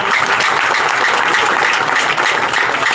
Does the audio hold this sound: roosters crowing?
no